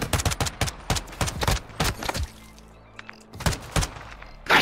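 Video-game gunfire sounds as rapid, loud bursts of close shots in quick rhythmic volleys, then a brief lull with faint clicks before another burst of several shots rings out.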